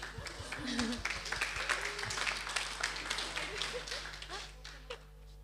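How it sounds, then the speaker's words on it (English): A small group at a signing ceremony claps, scattered and uneven, with brief cheering voices mixed in, fading toward the end. "Give applause."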